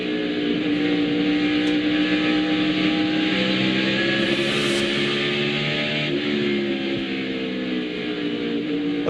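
NASCAR Winston Cup race car engines, 800 horsepower, roar loud and continuous at Bristol Motor Speedway during the 2001 Food City 500, pitch swelling as throttles open off the corner.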